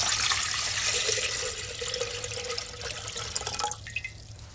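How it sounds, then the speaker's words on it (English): Water pours from a tap into a container, a steady hissing rush that tapers off near the end with a few splashy drips. "Partly fill the container with water."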